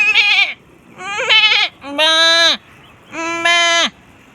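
A human voice mimics a goat's bleat in four separate wavering calls, each about half a second long, loud and close with short pauses between them.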